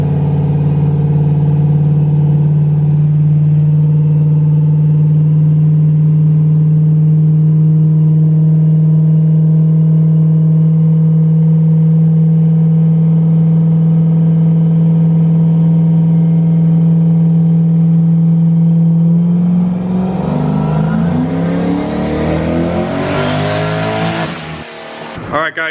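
A turbocharged LS-swapped Fox-body car on a chassis dyno holds a loud, steady engine drone for about twenty seconds, then revs hard through a rising, roaring pull that cuts off abruptly near the end.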